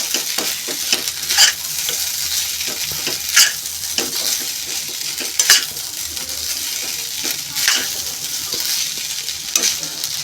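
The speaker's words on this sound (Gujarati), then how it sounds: "હવે આપણે એમાં ટામેટાં નાખીશું. ટામેટાં નાખી અને ઢાંકી દેવાનું." Tomatoes sizzle in a pot of vegetable pulao as a spoon stirs them through, a steady frying hiss broken by sharp scraping strokes about every two seconds, close and with no talk.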